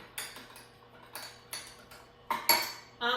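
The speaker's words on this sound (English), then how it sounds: "And then give that a stir." Utensil clinking against a bowl while seasoning salt is stirred in, several short taps and scrapes, close and fairly quiet, no voices.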